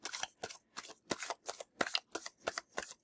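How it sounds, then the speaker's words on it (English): Crisp rhythmic riffling of a new deck of cards being shuffled, about a dozen quick papery bursts in steady succession, close and clear with no voices. "New cards are hard to pull the way I shuffle."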